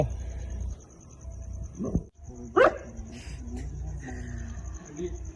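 One sharp dog bark rings out nearby at night in a Pakistani village, over a low engine-like rumble, with people talking faintly around it.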